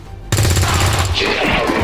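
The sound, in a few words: gunshot from video game XCOM 2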